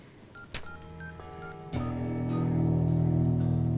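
Telephone number dialed on a keypad in a Telugu movie scene: a quick run of distinct dial tones, followed by a steady ringback tone that grows louder and continues to the end.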